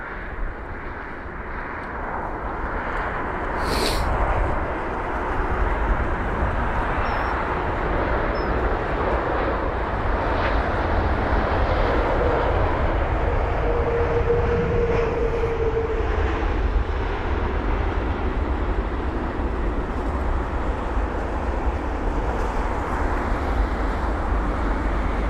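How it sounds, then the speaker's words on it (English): A Boeing 777-200ER landing at London Heathrow, a loud sustained engine roar that swells after a few seconds and holds steady, with a brief faint higher tone midway. "But either way, it's here now, this Boeing 777-200 aircraft."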